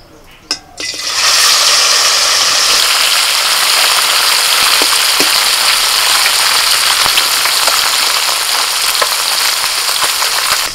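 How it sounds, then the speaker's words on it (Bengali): Small koi fish frying in hot oil in a wok, a loud, steady sizzle that bursts in after a brief clatter and holds unbroken throughout, close and dense. "কড়াই তেল দিয়ে দিয়েছি, তেল গরম হয়ে গেছে। এবার ছোট ছোট কই মাছ ভেজে নেব।"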